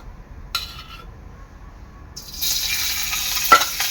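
Ghee drops into a hot kadhai and begins to sizzle. After a few quiet clinks, a soft hiss rises and holds, and a brief metallic tap sounds near the end.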